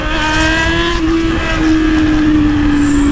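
A Yamaha XJ6 motorcycle engine roars steadily nearby, holding a loud, even drone with a slight pitch shift partway through, no talking.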